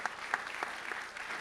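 Brief, faint audience applause at a film Q&A, a soft patter of claps with no voices on top.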